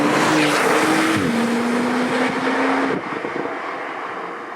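A 580 bhp Porsche 911 Turbo S engine in Sport Plus mode, close and loud while driving, with a rising then steady droning tone that drops off abruptly near the three-second mark into a quieter rumble.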